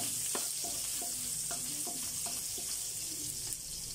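Garlic frying in a shallow layer of oil in a pan for beef calderita, a steady close sizzle with occasional light stirring taps, no talking.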